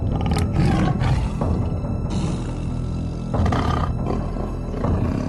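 A tiger gives a series of deep, loud roars and growls that swell and fade across the whole stretch, close and unaccompanied by any talk.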